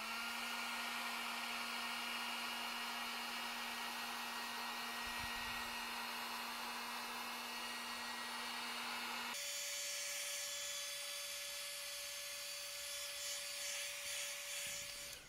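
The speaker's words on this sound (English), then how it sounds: "I'm going to use my heat gun to seal in all the stuff that I sanded and the foam in general" A heat gun sealing sanded foam for a Wolverine claw prop: a steady, loud, whining blower hum running throughout, shifting pitch once partway as the setting changes.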